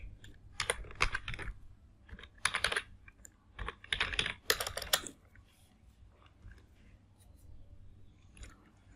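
Keystrokes on a computer keyboard while a shell script is written, coming in close, uneven bursts of rapid clicks with short pauses between them, no voice.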